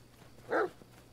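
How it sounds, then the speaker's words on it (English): One brief, clear bark from a dog in a video game cuts through a low steady background hum, standing alone without any talking. "Okay, we have a dog."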